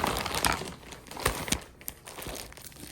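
Scissors cut open the plastic packaging around a memory foam pillow, giving close, uneven bursts of crinkling and tearing with brief crackles between them.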